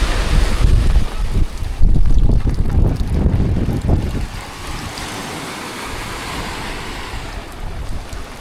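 Strong wind buffets the microphone over heavy surf crashing on an island shore during a storm, a loud, steady roar with rumbling gusts that ease off toward the end.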